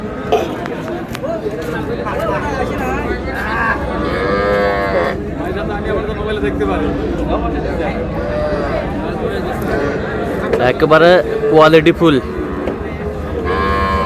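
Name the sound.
Sahiwal cattle mooing at a cattle market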